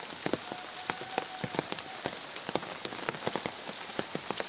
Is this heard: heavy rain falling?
yes